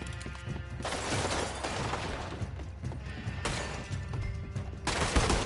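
Sustained shootout in Red Dead Redemption 2, loud dense bursts of gunfire and crackling impacts in rapid succession, pausing briefly and then resuming, with little talk.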